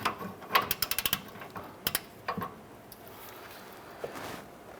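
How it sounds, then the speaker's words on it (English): A 21 mm wrench works the nut side of a bolt on a 2011-2018 Ram 1500 front upper control arm, giving a quick cluster of sharp metallic clicks and creaks in the first couple of seconds, then a few isolated ticks over quiet background. "we're using a 21 millimeter wrench on the nut side. Let's go ahead and loosen this bolt"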